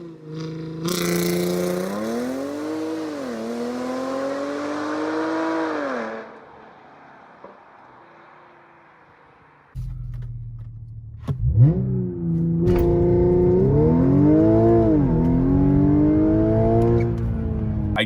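A tuned Audi 3.0 TFSI engine revs hard and climbs through second gear under load, pausing with a brief lull before pulling strongly again, loud and close.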